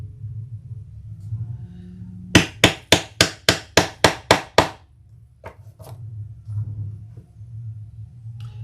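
A rivet is hammered into a leather tote in a quick series of about nine sharp, evenly spaced strikes, with quieter taps and low room rumble before and after.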